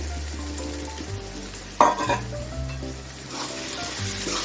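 Brinjal pieces hit a hot pan of softened tomatoes and sizzle steadily as they are stirred and sautéed, with a sharp clatter partway through and a low hum underneath.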